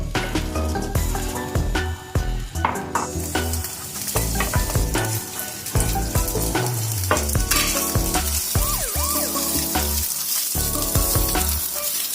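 Fried rice with sausages and eggs being stirred and tossed in a hot pan, a steady loud sizzle with continuous scraping and clinking of a utensil against the pan, no talking.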